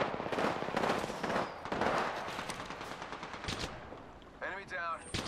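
Rapid automatic gunfire from the battle royale shooter Apex Legends, a weapon with a level one barrel stabilizer firing sustained bursts up close, loud throughout, with a short burst of voice chatter near the end.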